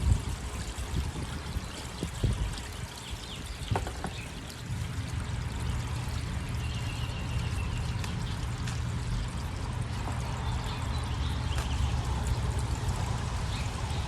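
Water pours and trickles steadily through a hydroponic flood and drain system growing black Simpson lettuce, a continuous close wash of flowing water with no talk.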